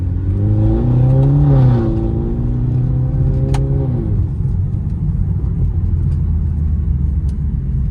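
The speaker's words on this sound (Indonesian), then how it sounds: "itu ada pop and banknya di knalpotnya" A 2016 BMW F30 320i in Sport Plus mode revs loudly up close, its deep engine drone rising then falling back, with a sharp crack from the exhaust as the revs drop, leaving a low rumbling idle.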